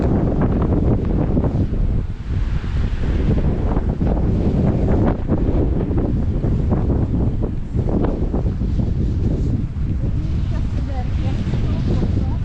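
Strong wind in Sardinia buffets the microphone throughout with a constant rushing roar and low thumps, no pauses.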